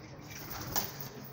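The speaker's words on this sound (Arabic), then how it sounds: "طلع يا اخوان يعني ما شاء الله حمام حلوه" Pigeons on a rooftop loft: a soft bird call rises briefly over a steady outdoor background hum, close and short, with no talking.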